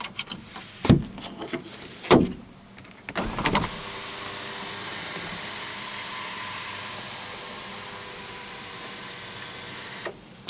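Sunroof motor on a 1998 Oldsmobile Intrigue: a few sharp clicks and thumps, then a steady, even electric whirr that runs for about six seconds and ends with a soft click, close inside the cabin with no talking.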